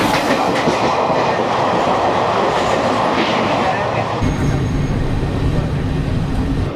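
A train running on rails on the Sealdah to Rampurhat route, a loud continuous rumble with rhythmic clickety-clack of wheels over rail joints, heard from inside the carriage throughout.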